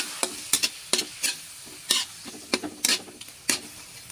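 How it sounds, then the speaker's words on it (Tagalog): Tomatoes sautéing in oil in a pan with soy sauce and a little salt, a spoon stirring them in a steady series of sharp scraping strokes over a continuous close sizzle. "Ihahalo ko na lang po sa ginisa kong kamatis."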